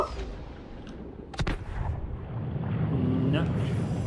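A torpedo explodes underwater in the Subnautica video game, a sudden sharp burst partway through that gives way to a deep, rolling rumble over steady murky ambience.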